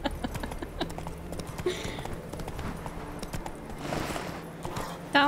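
A horse gallops in The Witcher 3, with rapid rhythmic hoofbeats close by and continuous, plus a brief whinny-like call and faint ambient game sounds.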